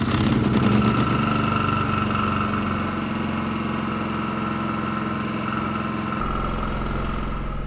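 A Champion 4500 watt generator (model 200990), started by remote, runs steadily at a loud, even idle with a constant engine hum and vibration, cutting off near the end.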